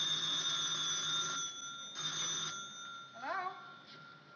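A telephone bell rings in two short, fairly faint bursts in a 1950s sitcom apartment, followed by a brief vocal sound.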